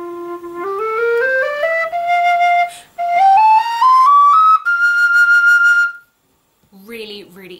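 Scale played on a Chris Wall custom Celtic low whistle, pure breathy tones stepping steadily upward note by note in two loud phrases, ending with a short burst of speech.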